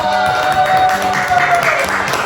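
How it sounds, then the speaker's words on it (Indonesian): Audience applause at a presentation on paracetamol bioanalysis in rabbit blood, a continuous crowd clapping blended with a sustained musical tone or hum underneath, moderately loud and steady throughout. "Tepuk tangan dulu dong."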